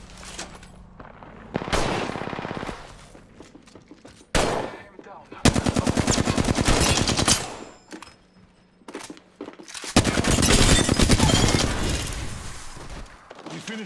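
Automatic weapon fire in the battle royale shooter Apex Legends, several loud rapid bursts of near gunfire separated by short pauses, the longest sustained volleys coming near the end.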